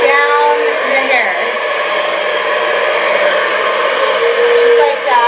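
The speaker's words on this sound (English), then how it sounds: "You want to point the nozzle of the blow dryer" A handheld blow dryer runs steadily throughout, a loud continuous whirring hum with a strong motor whine, pointed down the length of hair being smoothed during styling.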